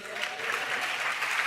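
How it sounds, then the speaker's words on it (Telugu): Church congregation clapping together in a brief, even burst of applause, close and fairly loud, with no talk over it. "ఒకసారి చప్పట్లు కొట్టండి"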